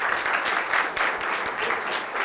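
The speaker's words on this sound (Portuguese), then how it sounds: "Palmas para ela." An audience at a hypnosis and family therapy session claps briefly, a moderate, fairly even patter of hands that stays steady throughout.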